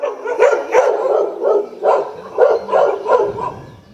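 Stray dogs in Thimphu bark repeatedly, roughly eight loud, close woofs in a steady rhythm, ending with a softer whimper and no voices.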